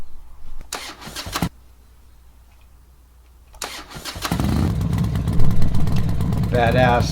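Motorcycle engine cranks with short starter bursts, pauses, then catches and settles into a steady, loud idle and rev before a test ride, with brief human voice near the end.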